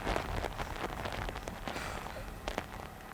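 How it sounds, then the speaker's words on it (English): Heavy rain pours steadily during Hurricane Laura's landfall in Louisiana, a dense continuous wash of noise with occasional sharper gusty bursts, close and fairly loud with no voices. "as the rain picks up a bit here"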